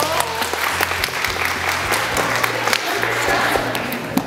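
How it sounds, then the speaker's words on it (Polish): Audience applause at a 2014 film workshop, a steady dense clapping wash held at even loudness for the whole stretch, with faint low hum and scattered voices underneath. "Sobie brawa!"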